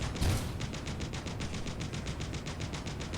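Turret in the Space Engineers video game firing a steady stream of rapid, evenly spaced shots after one louder burst at the start, moderately loud with no talk.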